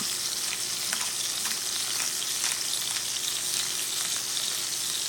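A steak sears in a hot pan with black pepper added at the side, giving a steady, loud, dense sizzle throughout with faint crackling pops and no talking.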